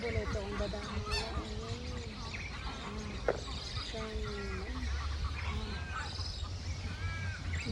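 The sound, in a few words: large noisy flock of birds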